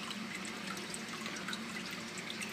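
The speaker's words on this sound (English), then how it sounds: "The water is pumped up by a Zoom-Ed micro pump into this bucket" Water lifted by a Zoom-Ed micro pump trickles into a filter bucket above a pond turtle enclosure, a soft continuous splashing and dripping, fairly quiet and steady throughout with no talking.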